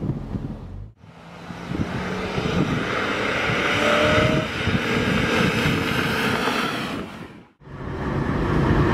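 BMW E46 M3 convertible cruising on a highway at about 65 mph with the top down, a steady roar of engine and rushing wind that briefly dips twice, with no talking.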